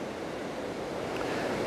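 Strong wind blowing outdoors around a DJI Mini 3 Pro drone, a steady loud rushing roar with heavy buffeting on the microphone throughout and no voices.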